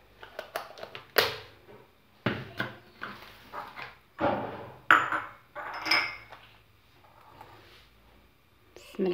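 Spoon and utensil clatter against a mixing bowl while chocolate batter is stirred, a series of irregular close scrapes and knocks in bursts with short pauses, no talking.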